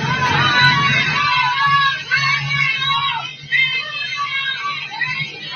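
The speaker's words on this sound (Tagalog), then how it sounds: "may sumisigaw na BBM" A large outdoor crowd at a political gathering in Davao shouts and chants "BBM". The loud, rhythmic call from many voices goes on and on with overlapping cheers, rising and falling in waves.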